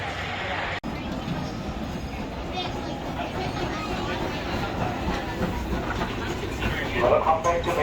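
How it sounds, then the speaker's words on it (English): A ride on the Cedar Point and Lake Erie Railroad, a steam train at an amusement park. The cars rumble and clatter steadily close by, with a broad rolling roar and people talking over it. "We're gonna hop on the Cedar Point and Lake Erie Railroad."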